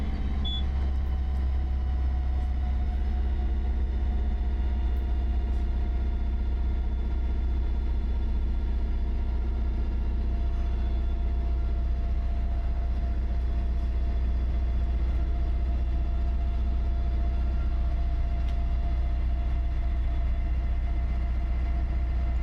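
A Rotorway Talon helicopter engine running down after landing, a steady, deep rumble with a constant low drone and faint high whine, running on without voices for the whole stretch.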